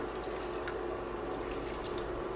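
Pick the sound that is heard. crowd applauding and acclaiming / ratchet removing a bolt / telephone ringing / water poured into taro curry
water poured into taro curry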